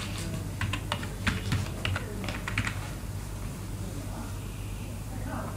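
Someone types on a computer keyboard while entering a batch-file script in Notepad, producing quick bursts of close key clicks that thin out and stop partway through, with a faint steady hum underneath.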